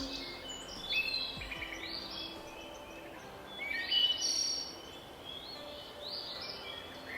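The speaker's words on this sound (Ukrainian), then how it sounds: "Це синичка радіє приходу весни та тепла." A great tit sings bright, repeated phrases of high notes over a quiet outdoor spring background, with a few other faint chirps in between.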